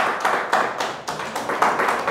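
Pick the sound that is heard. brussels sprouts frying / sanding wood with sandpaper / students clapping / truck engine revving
students clapping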